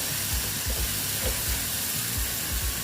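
Ridge gourd sautés with spices in a pan, giving a constant close hiss of frying overlaid with rhythmic low scraping strokes from stirring, steady and fairly loud, with no voices.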